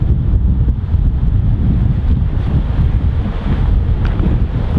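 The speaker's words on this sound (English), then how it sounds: "Wind into slightly off the left, actually." Wind blows across a golf course, a loud steady rumbling buffet against the microphone with no pauses and no voices.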